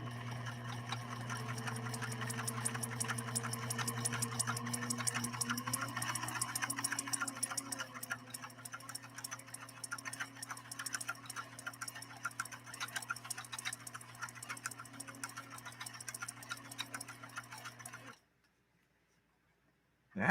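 A PFAFF 1222E sewing machine runs a zigzag stitch down 100% cotton fabric, a steady rapid mechanical whir and tick with a constant motor hum for about eighteen seconds, then stopping abruptly.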